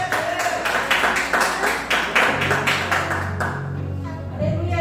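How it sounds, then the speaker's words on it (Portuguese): A church congregation claps during a worship service, a dense patter of many hands with some voices and background tones mixed in, fading toward the end. "Uma salva de palmas para Jesus."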